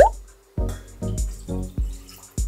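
Orange juice pours into a bowl for an orange chicken sauce, heard as several close, loud liquid glugs and splashes arriving in uneven bursts.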